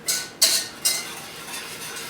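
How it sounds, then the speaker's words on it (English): A spoon stirs a caramel mixture in a pot, giving three sharp scraping strokes close up, followed by softer rhythmic scraping, with no voices. "So we're going to have to keep stirring this guy"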